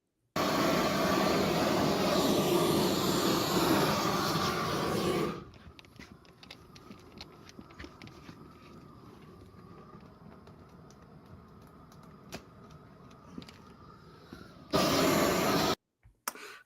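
A roofing torch heating the edges of a modified bitumen base sheet on a flat roof, a loud blasting roar for several seconds that drops to a quieter crackling hiss, then roars again briefly near the end.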